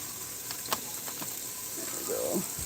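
Onions cooking down in a pan give off a faint, steady sizzling hiss, with a few soft clinks and small kitchen noises.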